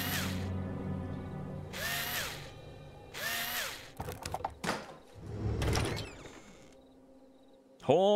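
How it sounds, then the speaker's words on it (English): Power drill working on a door in the video game Demon Hunter 5: rising whirring bursts repeated several times, then mechanical creaks and clunks as the door opens, ending with a sharp knock. "Oh, I need the drill for the door."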